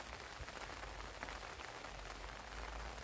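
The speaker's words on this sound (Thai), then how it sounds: "ดูบรรยากาศ รอบๆ สวนฝนตกค่ะ" Rain falls over a Thai vegetable garden in Hungary, a soft, continuous hiss of drops on leaves and ground. It is quiet and even, with only slight variation across the few seconds.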